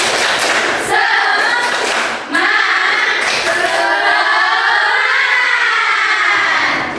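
A school class performs a rhythmic spirit clap in unison, giving sharp group claps and thuds in a patterned beat, mixed with children's chanting voices.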